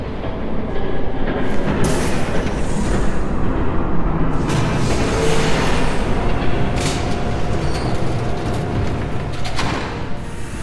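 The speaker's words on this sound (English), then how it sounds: "There's a train coming." A train passes close by in the video game Batman: The Telltale Series, a loud continuous rumbling rush with rattling wheels and metallic clatter bursts throughout, no voices over it.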